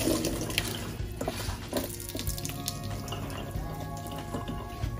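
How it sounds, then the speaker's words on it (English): Rinsed ugu vegetable leaves squeezed by hand for an okongobong soup, releasing a steady trickle and splatter of water that drips and spatters continuously at close range. "once you're convinced that you've rinsed it enough, just squeeze it and put on a plate"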